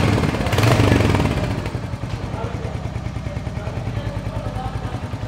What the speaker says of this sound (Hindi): काफी सेटिस्फाइंग साउंड है एग्जॉस्ट से, इंजन से।